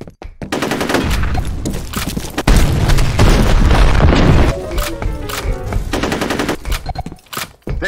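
A grenade in the game F.E.A.R. bursts with a heavy boom among rapid close machine-gun fire, the shooting rattling on in dense volleys before trailing off into scattered shots.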